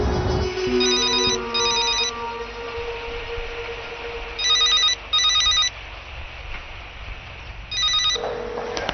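A mobile phone rings in repeated electronic double bursts with pauses between them, fairly loud and near, over a low steady background hum.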